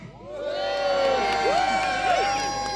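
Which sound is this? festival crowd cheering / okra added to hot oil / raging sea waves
festival crowd cheering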